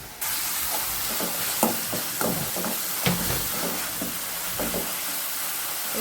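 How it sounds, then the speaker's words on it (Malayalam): Shallots and curry leaves fry in coconut oil, giving a continuous hissing sizzle close by, with a few soft stirring knocks scattered through it and no talking. "കുറച്ച് വേപ്പിലയും ഇനി കുറച്ച് നല്ല വെളിച്ചെണ്ണയും കൂടി ഒഴിച്ചിട്ട് നല്ല രീതിയിലൊന്ന് മുരിച്ചിടും"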